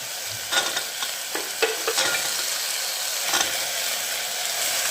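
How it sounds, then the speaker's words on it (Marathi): Peanuts and peas are stirred in a hot pan with tomato paste, giving a steady sizzle broken by several sharp scraping strokes of a spatula close up, with no voices. "आता सगळी परतून घेते मी आता हे शेंगदाणे आणि वटाणे"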